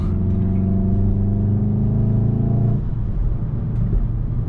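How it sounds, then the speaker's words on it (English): A stock VW Golf R Mk7.5 on the road, its engine intake droning steadily under load with a strong low hum, then easing abruptly as the throttle lifts and the note drops to a lighter cruising rumble. "The intake sounds insane on this car."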